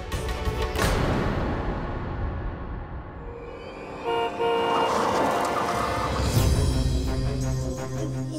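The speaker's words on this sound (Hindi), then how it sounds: "ये गाड़ी की आवाज किसकी है?" A car pulls up at a house, its engine rumbling and a horn tooting a couple of times before the motor settles into a steady idle, fairly close and loud, with no talk.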